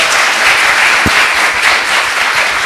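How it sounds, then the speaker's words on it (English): A short burst of dense audience applause at a yoga festival event, loud and continuous clapping from a crowd with one sharper thump near the middle. "So, bigger round of applause"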